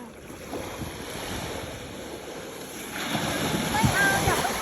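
Ocean waves washing onto a beach at Khao Lak, a steady broad rush with gusty wind noise on the microphone that swells louder toward the end.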